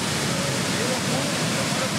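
A waterfall in Costa Rica during the wet season roars as a dense, constant rush of falling water, loud and unbroken, with a voice murmuring faintly underneath.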